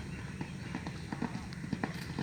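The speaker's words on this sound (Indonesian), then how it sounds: "Nah kuda yang tadi satu ya, yang belum dilepas sekarang sudah dilepas nih" A racehorse gallops on a training track at a racecourse in Sumedang, hooves drumming in a steady rapid rhythm at mid distance beneath someone talking over it.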